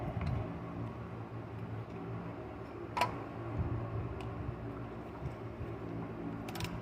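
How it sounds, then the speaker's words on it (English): A ratchet tool clicks faintly while compressing a front brake caliper on a 2015 Nissan Altima, its soft ticking broken by one sharp metallic knock. "it's like a wrench, a ratchet. So it ratchets back and forth"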